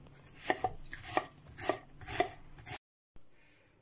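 A large sharp knife finely chops onion rhythmically on a cutting board, about six sharp close taps, then a brief silence and one soft final knock.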